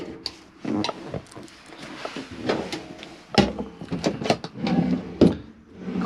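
A cutlery drawer in an Adria Sun Living 640 motorhome kitchen being handled, a run of soft wooden knocks, slides and clicks scattered irregularly at close range, fairly quiet.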